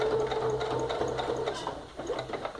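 A sewing machine backstitches at the end of a seam joining fabric panels to a zipper on a small zippered pouch, a steady close motor whir with rapid needle clatter that continues throughout, no voices.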